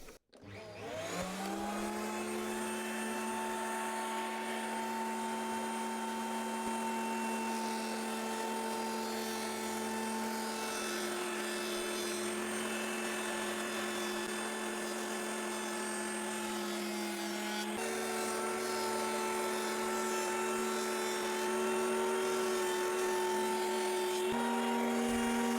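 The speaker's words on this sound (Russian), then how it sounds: "Хорошенько закреплю рубанок на станине, чтобы он никуда не убежал." Electric hand planer clamped upside down on a stand, planing the side parts of a rustic wooden bed frame, spins up and then runs as a loud steady whine with a strong drone for the whole stretch, with no talk.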